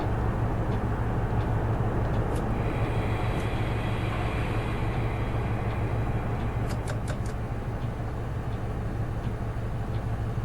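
A simulated Class 43 high-speed train pulls into Didcot Parkway, its steady low engine drone and rolling rumble running throughout, with a few faint high clicks and squeaks near the end.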